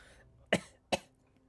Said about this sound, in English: We call that a cough break.